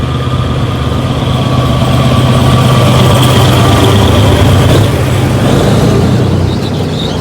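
A heavy GEK 4007 diesel locomotive engine roars loudly and continuously at Nong Pla Duk Junction, a deep sustained rumble with a steady pitch and no pauses.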